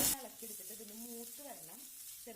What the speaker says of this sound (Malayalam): ഇനി ഇതിലേക്ക് ഞാൻ ചേർത്ത് കൊടുക്കാൻ പോകുന്നത് വെളുത്തുള്ളി ഇഞ്ചിയും കൂടി ചതച്ചെടുത്തതാണ്.